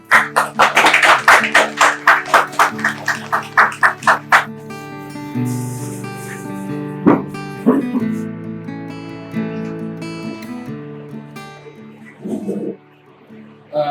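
An audience at a book launch event for a Bengali book on the Bhagavad Gita claps in a loud, rhythmic burst for about four seconds, then it fades into a tonal musical sound with scattered noises and a voice.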